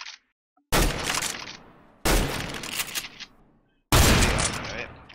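Three loud, close bursts of AUG rifle spray fire in the video game CS:GO, each a dense rattling volley lasting over a second, separated by brief silences.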